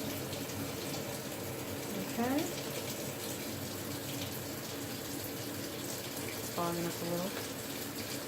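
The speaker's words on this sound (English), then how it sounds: "I let the water run in it." Water runs steadily into a Magic Chef portable washing machine, a continuous close rushing pour, while a person speaks briefly over it.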